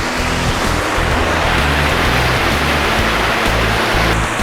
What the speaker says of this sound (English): So we're at the outfall of the wastewater treatment plant.